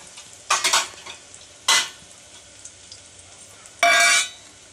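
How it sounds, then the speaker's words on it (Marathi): A spoon stirs biryani in a pot in three distinct scraping strokes, with a faint sizzle between them, close and clear. "मम्मी बिर्याणी बनवत आहे. आता हलवत आहे."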